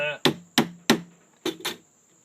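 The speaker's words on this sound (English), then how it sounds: "If you take a flathead screwdriver, set your motor down in something that's going to give it some resistance, and tap" A flathead screwdriver taps on the plastic ring of a blender motor, giving five sharp, close knocks in an uneven rhythm, with a brief voice fragment at the start.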